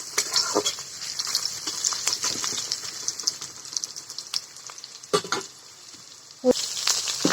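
Small fish for the Assamese dish charchari fry in a pan with a steady, bright hiss, broken by sharp utensil knocks and scrapes, close and without talk.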